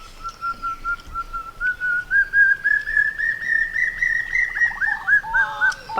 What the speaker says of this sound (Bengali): পাখি ডাকছে